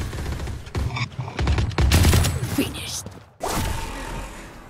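Gunfire in Valorant, the tactical shooter, rings out in loud broken bursts, with shots fired through a wall, while a voice talks excitedly over the action.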